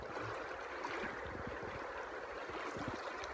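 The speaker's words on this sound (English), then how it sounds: "I'm just at the first creek crossing here now." Creek water rushes steadily at a mountain creek crossing on a goat hunt, a continuous broadband wash with no voices.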